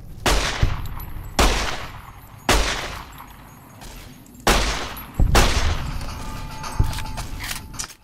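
Repeated gunfire from the video game Fallout: New Vegas, with sharp loud shots at roughly one-second intervals, some rapid bursts, each trailing off into a short decay.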